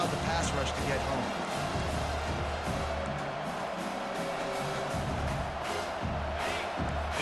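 A stadium crowd roars in EA Sports College Football 25, a steady, broad wash of noise behind an announcer calling the play.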